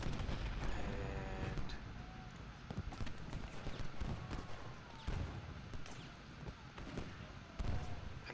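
Scattered musket and cannon fire crackles from Civil War battle lines at Gettysburg in a strategy game, irregular shots and distant booms over a constant rumbling wash of battlefield noise.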